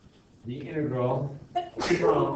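A single sharp sneeze bursts out near the end, loud and close, right after a teacher's voice working through a calculus integral in a classroom.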